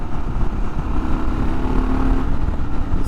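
A Kawasaki KLR 650 single-cylinder motorcycle engine drones steadily while riding, a close, constant low thrum with wind rush and a slight rise in pitch midway.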